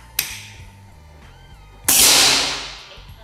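Two shots ring out from a toy air rifle: a sharp crack early on, then a louder, longer burst with a hissing tail that fades over a second, heard up close over a low background hum.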